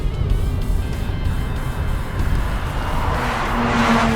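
A Mazda RX-8 with a rotary engine driven hard, a loud sustained engine drone under load with tire noise, building steadily in intensity toward the end.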